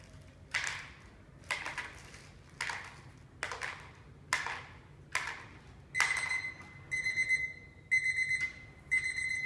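A timer alarm goes off during a fine motor fluency exercise. A series of regular, sharp taps or ticks is followed by a repeating electronic beeping pattern that is loud and close, with no talking.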